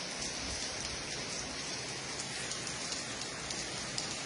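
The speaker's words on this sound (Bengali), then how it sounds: "সূর্য মেঘের বৃষ্টি রোদের মধ্যে বৃষ্টি পড়তেছে" Light rain falling during sunshine, a steady soft patter of drops on surfaces, faint and even throughout, no voices.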